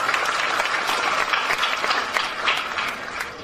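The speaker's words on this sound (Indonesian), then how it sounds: "Tepuk tangan buat warga Jogokarian" A crowd at a gathering applauds the residents of Jogokarian with steady, sustained clapping that holds as a continuous dense wash for the whole stretch, with no speech on top.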